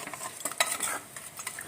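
Meat curry stirred in a pot after hot water is added, a short burst of soft scraping and clinking ladle strokes over a faint simmer, quiet and close.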